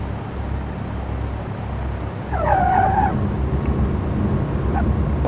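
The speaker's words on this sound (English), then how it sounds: "We're touching down right now." A light aircraft on a short-field landing touches down on the runway: a brief chirp of tires squealing on contact, heard over the loud, steady drone of engine and cockpit noise.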